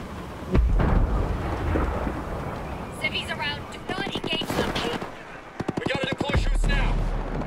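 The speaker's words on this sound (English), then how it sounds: "there's a whole firefight behind me" Rapid bursts of automatic gunfire from a firefight in a Ghost Recon open-world shooter game, crackling in clustered volleys against low rumbling ambience, with a voice talking over parts of it.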